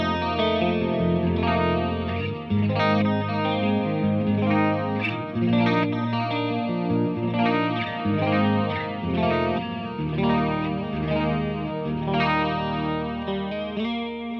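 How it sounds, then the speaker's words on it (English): Electric guitar through a clean amp channel on a Headfirst Alta, dressed with Julia chorus and delay, plays shimmering chords and picked notes with a wide, wavering echoey tone, steady and close with no talking. "Let's dress it up with some Julia chorus and some delay."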